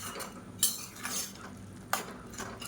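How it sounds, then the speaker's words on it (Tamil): A spoon scrapes and knocks against a pan while Tamil kuzhambu curry is stirred, with two sharper clinks standing out over a soft, constant background, close by and with no talk. "இது எல்லாத்தையும் நல்லா கலந்து விட்டுக்கலாம்."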